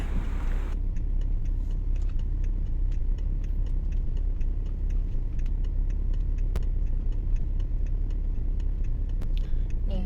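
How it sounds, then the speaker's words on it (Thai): BMW E60 with an M47N2 diesel engine idling steadily in reverse gear after a gearbox solenoid repair, a loud continuous low rumble with faint regular ticking over it. "อันนี้เข้าเกียร์ถอยหลังให้ดูอยู่นะจ๊ะ"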